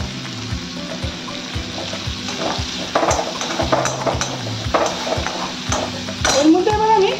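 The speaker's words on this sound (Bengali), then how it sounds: "এর মধ্যে তেল দিয়ে দিলাম, দিয়ে এর মধ্যে কিছু পেঁয়াজ দেবো, কিছুটা অল্প করে পেঁয়াজ দিয়ে এটাকে একটু ভাজবো।" Onions frying in oil in a pan, with a steady sizzle, regular knocks and scrapes of a utensil against the pan, and faint talk near the end.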